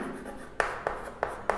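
Marker or chalk writing an example on a classroom board: four quick tapping strokes in an even rhythm, close and clear, with faint room tone between them.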